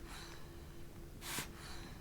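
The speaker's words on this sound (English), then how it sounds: "Take a deep breath in." A single soft, close inhalation, a slow deep breath drawn in quietly over near silence.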